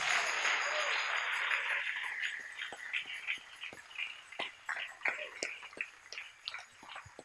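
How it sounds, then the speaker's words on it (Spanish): Church congregation applauding during an evening service, a broad wash of clapping that tapers into scattered, sparser claps and small sounds over several seconds. "Denle un aplauso al Señor en esta hermosa y linda noche."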